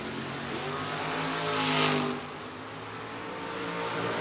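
Bill Wilson's 1981 Camaro launches at a drag race, its engine roaring up to a loud swell that peaks and drops away. A steady motor drone continues afterward, with no voices.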